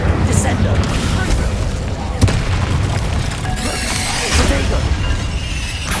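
A Descendo spell slams down in a Hogwarts Legacy battle, a loud dense boom and crash over continuous game noise, with a sharp impact midway and layered combat effects and voices around it.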